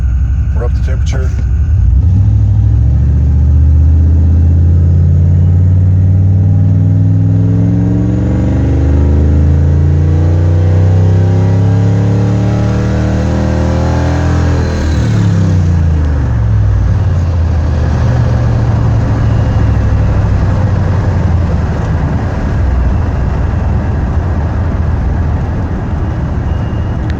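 A 1990 Chevrolet K2500 truck with a 4L80E transmission accelerates hard from a standstill, engine note climbing through gears with audible shift drops, loud and close from inside the cab with a voice briefly heard.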